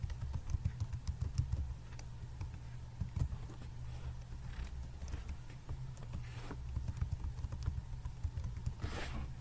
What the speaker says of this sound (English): Now they ask you to create a HostGetter account by typing your email address.